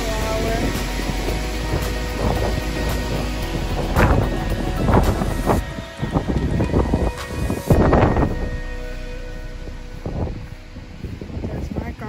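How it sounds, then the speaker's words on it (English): Strong gusting wind blowing at 20 to 30 miles per hour outdoors, a steady loud roar buffeting the microphone with sharper rustling bursts and a voice talking over it. "The wind 20, 30 miles per hour."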